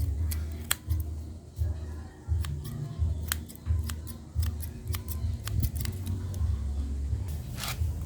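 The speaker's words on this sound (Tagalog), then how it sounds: "igunting-gunting mo lang na ng madahan" Scissors snipping gently, producing a series of sharp, crisp clicks at an uneven pace, close by, with faint murmuring voices and a low background rumble underneath.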